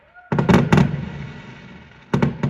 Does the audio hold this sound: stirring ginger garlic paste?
no